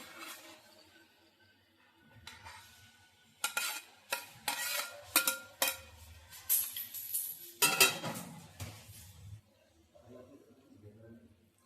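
Pre-fried vegetables are tipped into a pan of okra curry and stirred with a metal spoon, giving a run of sharp clinks and scrapes over a faint sizzle, loud and near, with a voice talking now and then.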